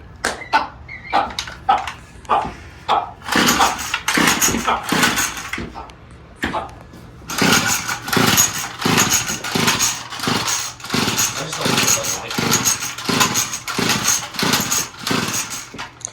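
A small engine, just repaired and leaking at its return hose, coughs and sputters through a hard start, then roars into a steady, loud, close-up run with rhythmic pulsing.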